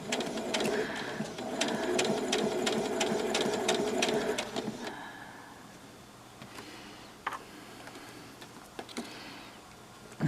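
A sewing machine stitching a Y seam on fabric, running in a fast rapid ticking burst for about five seconds, close and clear, then stopping, followed by faint handling clicks.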